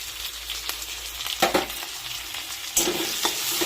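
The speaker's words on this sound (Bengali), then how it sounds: "এরপর আমি আদা রসুন বাটাটা দিয়ে দেবো।" Ginger-garlic paste fries in a hot pan on low gas while it is stirred, giving a steady soft sizzle that runs throughout with a few scraping strokes of the spoon breaking through.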